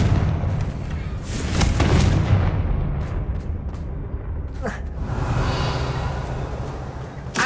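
Confringo spell blasts in the video game Hogwarts Legacy, loud booming explosions with rumbling bursts and a few sharp cracks over game ambience.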